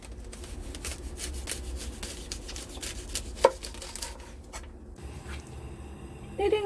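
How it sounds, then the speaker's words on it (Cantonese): A knife saws through a garlic bulb in a kitchen with repeated scraping, rasping cuts at a close, steady pace, with a sharper crunch partway through and louder clatter near the end. "呢個蒜頭咧，我哋切開佢，大約係2/3啦"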